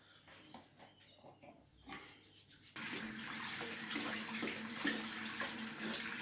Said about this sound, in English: First of all, I'm going to wash my hands.